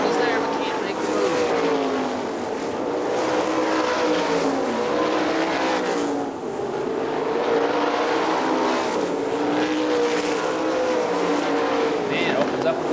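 410 sprint cars race at Hartford Speedway, their engines roaring in loud, overlapping surges as the cars circle past, with a race commentator talking over the din.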